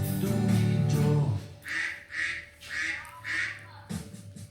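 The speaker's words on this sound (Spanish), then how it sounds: "¿Cómo hace el pato?" A duck quacks four times in a steady rhythm, loud and close, after a short musical phrase at the start.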